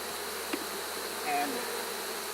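Honey bees buzz in a steady, close swarm around the hive during honey extraction, one bee droning louder as it passes near. A single word is spoken briefly.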